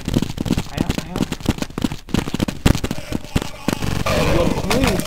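Rapid bursts of gunfire in Counter-Strike 1.6, played online in a web browser, crack out in dense volleys with explosive pops, heard under excited speech from players.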